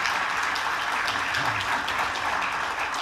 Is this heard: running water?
no